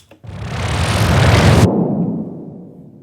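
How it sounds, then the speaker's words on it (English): A synthetic wah effect swells as a broad, loud noisy whoosh, building for over a second before its upper part cuts off abruptly and leaves a fading low tail. "This second layer is a wah."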